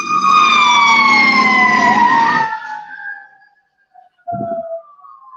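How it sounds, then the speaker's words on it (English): A fire truck siren wails loud and close, its tone sliding downward as the truck passes and fades. Then comes a brief quiet before a short, lower burst of the siren. "fire truck went by."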